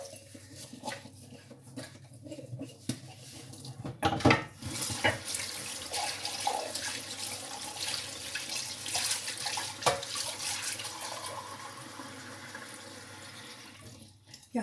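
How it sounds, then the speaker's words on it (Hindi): Water poured into a cooking pot while preparing plain goat meat curry, a continuous trickling and splashing stream with a few clinks of the vessel. "यहाँ मैंने पानी डाल लिया"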